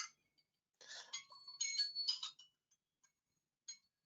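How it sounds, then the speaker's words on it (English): Phone alarm going off during a classroom presentation, a faint, short burst of chiming ringtone notes rising and falling, followed by a single brief blip, in an otherwise quiet room. "that was my alarm for this presentation"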